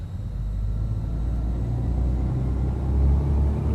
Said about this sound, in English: I'm going to let you listen to the roar of those engines.